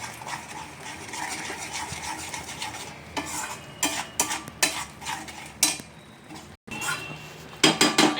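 Cashew paste being sautéed over low to medium heat, a spoon stirring and scraping against the pan in irregular bursts with a soft sizzle underneath, close and fairly loud.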